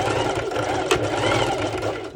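A sewing machine runs a straight stitch in a continuous, rapid mechanical rattle, close and steady throughout with a brief click near the middle.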